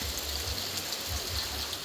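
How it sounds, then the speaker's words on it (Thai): Rain falls steadily outdoors in the evening, a dense continuous hiss with low rumbling underneath, moderately loud and unbroken, with no voices. "ฝนตกแล้ว"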